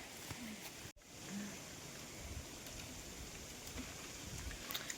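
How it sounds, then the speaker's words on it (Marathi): Rain falls outdoors in a soft, steady patter and hiss, faint and continuous throughout, with a moment of sudden silence near the start. "पाऊस"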